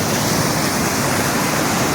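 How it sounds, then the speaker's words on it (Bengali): Water pours all around at a waterfall in Belpahari, Jhargram, swollen after the monsoon, a dense, loud, unbroken roar of rushing and splashing water with no voices. "খালি চারিদিকে জলটা কীভাবে পড়ছে দেখে।"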